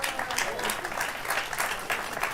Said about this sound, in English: I got applause for taking a dive on it.